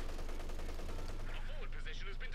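Dense, continuous gunfire and artillery bombardment from the WWII strategy game Company of Heroes 2, a loud rumbling barrage of rapid shots and blasts throughout, with a voice faintly underneath.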